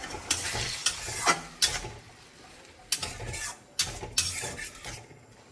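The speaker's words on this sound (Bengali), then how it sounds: "এবার পনিরটা একটু আমি ভেজে নিচ্ছি।" Grated paneer frying in a pan, with a soft sizzle broken by about half a dozen sharp scraping stirs at irregular intervals, close and moderately loud, no voices.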